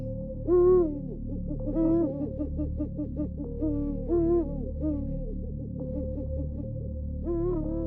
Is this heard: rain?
no